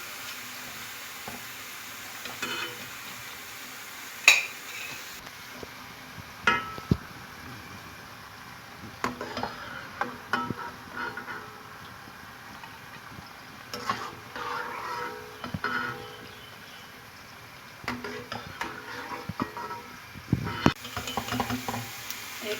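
Pakoras sizzling in hot oil as they are flipped over to fry the other side, with a steady background crackle and intermittent clinks and scrapes of a utensil.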